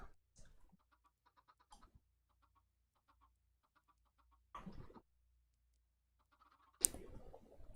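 Minecraft chickens on a farm give a few short, sparse clucks between quiet stretches, with some louder bursts of noise breaking in.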